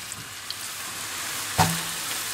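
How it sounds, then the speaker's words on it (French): Ravioli filling cooks in olive oil and butter in a pan, giving a steady soft sizzle with one brief clunk of stirring partway through. "je vais cuire cette farce dans un petit peu d'huile d'olive et de beurre"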